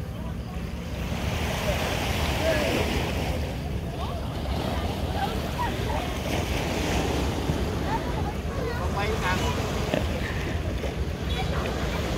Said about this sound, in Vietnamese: Ở đây người ta gọi là biển Rạch Bùng.